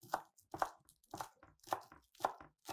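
A knife finely chops green onions on a board: six evenly spaced, crisp chopping strokes, close but faint, with no talk.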